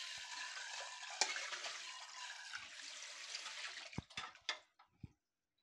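Tap water running while a heavy-bottomed cooking pot is washed, a steady gushing splash that stops, followed by a few scattered drips and clinks.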